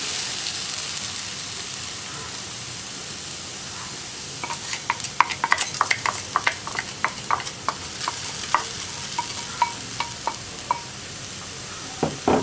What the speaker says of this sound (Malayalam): പാനിലേക്ക് നമുക്ക് എടുത്ത് വെച്ചിരിക്കുന്ന ചെറുപയർ ചേർത്ത് കൊടുക്കാം.